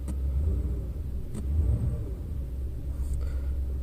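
A car engine with a failing MAF sensor rumbles low and steady nearby, swelling slightly as gas is given without a sharp rev.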